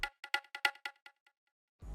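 A bongo pattern in an FL Studio beat, run through a fruity delay: about seven quick bright hits in a bouncy rhythm that fade into echoing repeats before a louder sound starts at the end.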